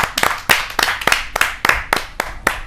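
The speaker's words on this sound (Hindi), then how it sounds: "मैं बहुत जोरदार तालियों के बीच उनको आमंत्रित करना चाहता हूँ।" Applause greets a poet at a Hindi poetry gathering: a small audience claps in sharp, uneven bursts, with individual hand claps standing out clearly and close, no voices over it.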